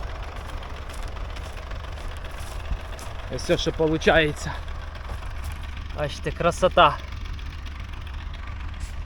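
A tractor pulling a disc cutting roller through a sunflower field, its engine a steady low drone throughout, with someone speaking briefly over it.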